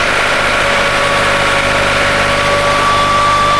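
An AM110T straw mill driven by a tractor runs at a constant loud drone, a dense mechanical roar with steady engine hum and vibration, close and unbroken, with no talking.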